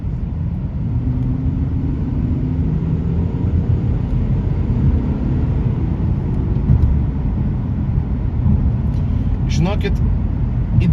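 An Audi A6 C7 estate driving in comfort mode gives a loud, steady low rumble of engine and road noise inside the cabin for the whole stretch, with a brief higher chirp near the end.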